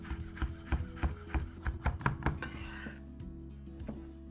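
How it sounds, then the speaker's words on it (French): Cooked spinach for ravioli filling is chopped with a knife on a board, giving a run of close, rhythmic taps that quicken and then stop, with a low background hum. "Alors on va commencer par hacher nos épinards."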